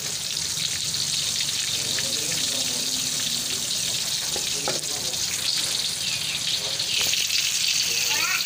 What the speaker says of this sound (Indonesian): Ini lagi goreng tempe mau buat makan malam ya